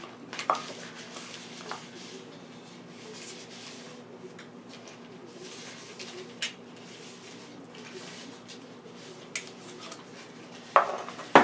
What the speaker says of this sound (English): I like to stir in between each cup.